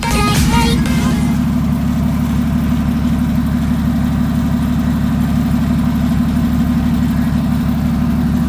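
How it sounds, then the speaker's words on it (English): A turbocharged drift car engine idles steadily after a long warm-up, a loud, low, constant rumble close by with a brief rattling clatter at the start. "Got the car running. It's been running for about 30 minutes."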